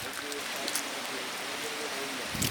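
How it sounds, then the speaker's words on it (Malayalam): Steady wash of heavy rain falling on surfaces outdoors by a river, constant and fairly close, with a faint voice murmuring beneath it. "മഴ ഭയങ്കര മഴ കേട്ടോ."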